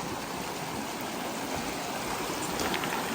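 A stream in Lerderderg State Park flows steadily toward a tunnel, making a continuous, even rush of water with no pauses, fairly close and without voices.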